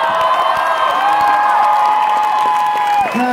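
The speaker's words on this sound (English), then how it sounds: "Give a round of applause for yourselves." A concert crowd at a live metal show at a club cheers and claps, with whoops and shouts over a sustained wash of noise, loud and near, briefly dipping at the end.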